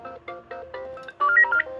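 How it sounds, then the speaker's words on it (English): A telephone rings with a rapid series of short electronic chirps that grows into a louder, warbling tone burst toward the end, heard alone with no talking. "Yep, and it is ringing."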